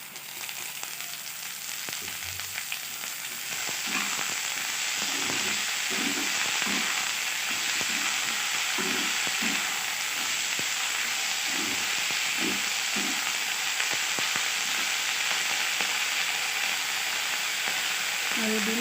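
Babori greens added to a pan of fried onions, a steady hissing sizzle that swells as the leaves go in, with intermittent stirring scrapes throughout.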